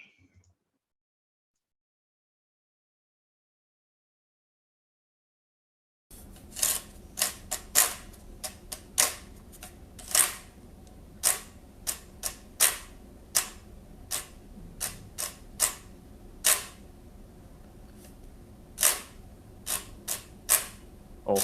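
After a silent start, a fingernail rasps along the bamboo pipes of a khaen mouth organ in a run of sharp, close, irregular scratchy strokes.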